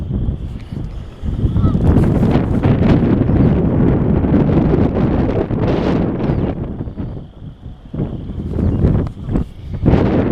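Strong gusting wind buffets the microphone outdoors near a farm field and barn in Ohio, a loud continuous roar with surging gusts and brief lulls throughout.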